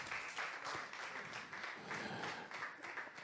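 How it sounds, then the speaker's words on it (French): A small crowd at an afterwork event applauds a guest, a faint, distant wash of clapping with a few louder swells, continuing evenly to the end. "Je vous prie d'applaudir Mika"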